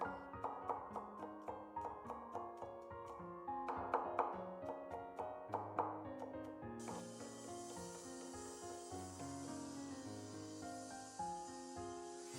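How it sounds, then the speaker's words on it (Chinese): A knife mincing flattened garlic cloves on a cutting board. Quick, evenly spaced chops tap out a steady rhythm for several seconds under prominent background music, then the music carries on alone. "接着再改刀切成蒜末"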